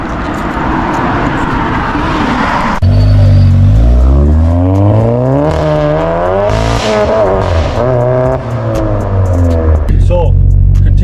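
A modified Volkswagen Golf GTI tuned to around 500 bhp accelerates hard from inside the cabin, engine note climbing loudly through rising harmonics with a gear change midway, then dropping back near the end.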